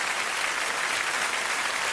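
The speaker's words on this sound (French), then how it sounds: "Vous voyez qu'on l'applaudisse très très fort." An audience breaks into steady, dense applause after a juggling act, sustained clapping from a full room with no pauses.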